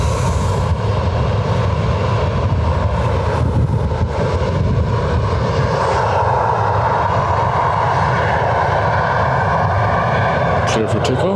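A Jet2 jet airliner taxis at Lanzarote Airport, its engines giving a steady, loud broadband roar that holds through the whole stretch, with a voice talking over it.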